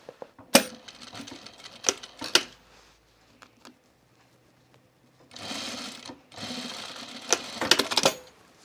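A sewing machine stitches back along a fabric edge on a top, in short bursts with sharp clicks and pauses between runs, close and fairly quiet.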